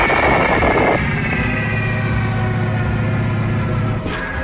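A loud, steady diesel locomotive engine roar with a harsh rushing blast of exhaust from its stack, continuous and close, easing slightly near the end.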